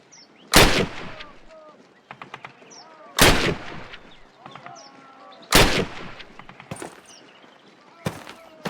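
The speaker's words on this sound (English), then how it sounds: "Approach the fence and fire 6 rounds at your target." Single loud rifle shots ring out at a target range in the Call of Duty video game, four spaced reports a few seconds apart with echoing tails, each followed by faint mechanical clicks.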